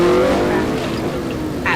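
Car engine in a racing video game, a loud continuous drone with a rising tone, heard alone and close.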